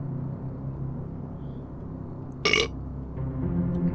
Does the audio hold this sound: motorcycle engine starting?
no